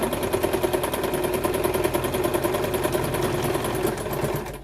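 A sewing machine runs a steady, fast stitching rhythm through fabric, sewing straight lines with occasional backstitching, close and continuous with no talking.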